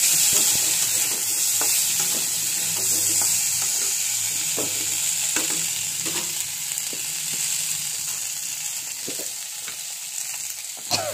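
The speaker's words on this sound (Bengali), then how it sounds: "আলুটা ভেজে নিই।" Potatoes frying in oil in a pan on a gas stove, a steady close sizzle with crackling pops and occasional scrapes and clinks of stirring, continuous throughout with no talking.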